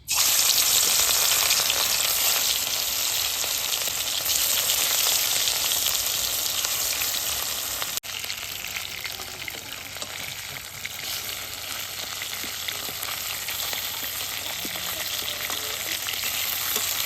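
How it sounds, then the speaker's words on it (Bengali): Katla fish pieces coated in salt and turmeric frying in hot oil, a loud dense continuous sizzle that eases slightly halfway through, close up, with no voices. "লবণ হলুদ মাখিয়ে মাছ ভালো করে লাল লাল করে ভেজে নেব।"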